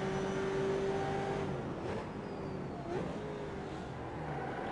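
Mazda MX-5 race cars pass in a racing video game at Homestead, their engines forming a steady droning whine that dips in pitch as one goes by, with a faint background hum.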